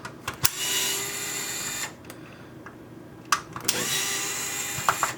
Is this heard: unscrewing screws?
yes